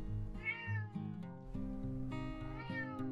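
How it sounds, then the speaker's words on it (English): A cat meows repeatedly at a campground in France, with drawn-out harmonic cries rising and falling in a steady sequence, close and clear, no talk over it. "And here comes the cat."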